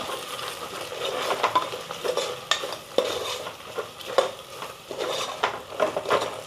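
Grated coconut sizzling in hot oil for mutton boti curry, stirred steadily with a metal spoon that scrapes and knocks the pan in a repeating rhythm over a continuous close frying hiss.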